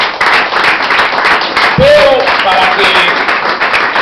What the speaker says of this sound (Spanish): ¿Cuánto le viene un aplauso al Señor?